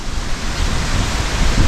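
Sea waves near a beach cottage in Bohol, a loud continuous wash of surf with a windy hiss, steady and close, with no voices.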